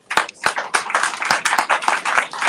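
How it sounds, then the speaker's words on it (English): Close, loud hand claps at a county cancer awareness event as a health commissioner is introduced. Sharp individual claps come in a quick, slightly uneven rhythm, sounding like a few nearby people rather than a large crowd. "Give him a big round of applause."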